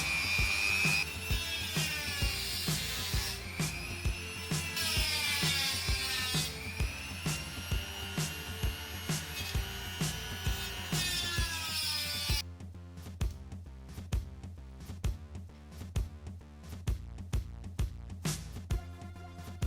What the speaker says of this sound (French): on va les découper avec une meuleuse de précision